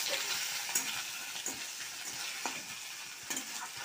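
Grated coconut and garam masala frying in a pan of tempering for a banana flower dish, stirred with a spoon: a soft, fairly quiet sizzle broken by repeated scraping strokes, heard close with no voices.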